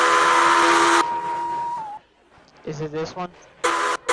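A loud steam-style train whistle blasts in a Roblox video game, holding a steady tone for about a second. A shorter, falling blast follows, then a voice speaks briefly before another burst cuts in near the end.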